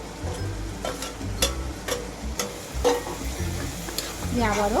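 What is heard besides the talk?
mixing spiced brinjal bharta with chopped spring onions in a pan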